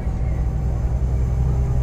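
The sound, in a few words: Scania K410 bus engine at full throttle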